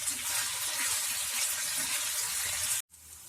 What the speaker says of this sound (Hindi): इसमें हम मटन के पीसेस डाल देते हैं। हाई फ्लेम पे गोश्त को अच्छे से फ्राई कर लें।